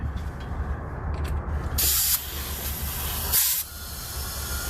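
Compressed air hisses loudly in two sharp bursts, about a second apart, as the air line is reconnected on a Triumph NTC-950 left assist arm, over a steady low workshop hum.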